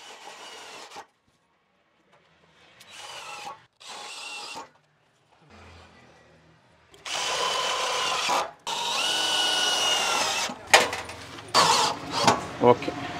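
A power drill drives self-tapping screws into VOX wooden ceiling panels on a European truss house: short separate whirring bursts, then longer, louder runs near the end, with quiet gaps and some intermittent voices.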